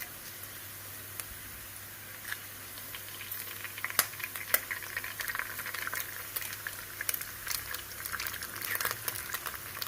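Eggs are cracked into a hot pan beside sautéed onion and garlic and sizzle steadily with crackling pops, a continuous close frying hiss that builds slightly over several seconds.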